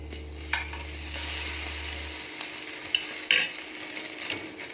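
French toast frying in cooking oil, a soft steady sizzle with a few clinks and scrapes from a utensil against the pan, and a low hum that fades out partway through.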